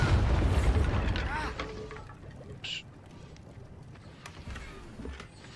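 In Hogwarts Legacy, a Bombarda explosion spell blasts with a deep, loud boom at the start, then rumbles away under a lingering ambient wash with a few faint game sounds.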